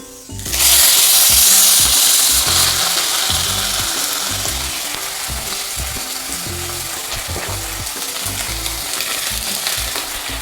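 Panch phoron and bay leaf hit hot oil in a wok with a loud burst of sizzling that settles into a steady frying crackle, with rhythmic stirring knocks throughout.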